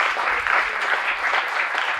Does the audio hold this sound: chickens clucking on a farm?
no